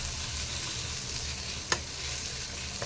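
Potato pieces coated in masala fry and sizzle in a pan, a steady hiss with soft stirring scrapes and one sharp clink of the spoon against the pan partway through.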